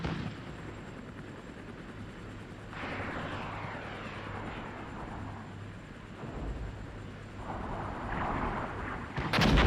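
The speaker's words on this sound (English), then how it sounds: "Helicopter." A helicopter in the Cold War strategy game Armored Brigade 2 makes a broad rotor and engine roar that swells and sweeps past. Distant rumbles and gunfire-like thuds run underneath, and a sharp burst comes at the very end.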